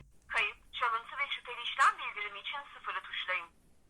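A voice comes through the small, band-limited speaker of a Ticwatch Pro smartwatch during a phone call, sounding thin and tinny, with short pauses between phrases.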